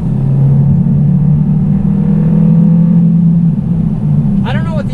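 A 2020 Hyundai Sonata pulls up a hill with a steady, loud engine drone that holds and rises slightly under load, then eases off toward the end, heard from inside the cabin.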